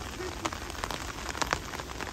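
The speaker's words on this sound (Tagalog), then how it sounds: "Ulan ka lang, nangingisda ako." Steady rain pattering on surfaces outdoors during a tilapia fishing outing, a fine continuous hiss dotted with distinct drop taps, moderately faint with no clear talk.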